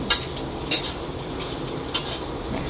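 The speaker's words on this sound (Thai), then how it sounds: "แล้วก็มาตักใส่จานกันเลย" Fried Chinese sausage, cooked without oil, being scooped from a pan onto a plate, with a few sharp metallic scrapes and clinks of a utensil over a low background of faint sizzling.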